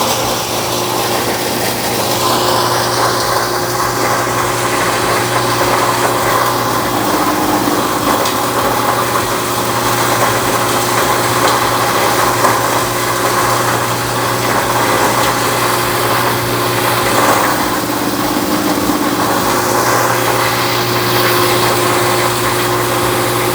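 A BDG Compact 1 mini granulator for copper wire runs continuously, a loud, steady mechanical drone with a high whine and a blower fan rushing over it, with no talking.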